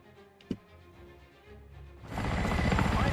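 A Mi-8 helicopter engine spools up in a video game, quiet at first with a faint click, then rising into a loud, steady turbine whine and rotor roar for the final second.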